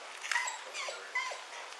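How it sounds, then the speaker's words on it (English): A search dog whimpers and yips in short, soft bursts while tracking a scent for trauma or heated areas, the cries close and moderately quiet with slight variation in pitch. "So this dog's looking more for trauma or heated areas."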